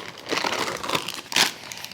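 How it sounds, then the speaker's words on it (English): A plastic-wrapped pack of paper towels crinkles up close, with a steady run of crackling rustles and a brighter, louder crunch near the end. No one speaks. "So here is a pack of paper towels."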